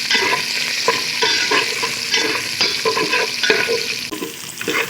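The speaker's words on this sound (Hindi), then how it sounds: "अब इसको 5 मिनट फ्राई करने के बाद मैं इसमें डालूँगी लहसुन अदरक" Ginger garlic paste frying in a pot for beef yakhni pulao, with a steady hiss and sizzle broken by frequent scraping stirs of a spoon against the pot, up close and without talk.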